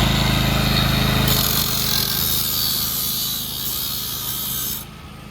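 An angle grinder powered by a Fisker 6 kW petrol generator whines loudly over the generator's steady engine hum, its high-pitched grinding rising partway through and cutting off near the end.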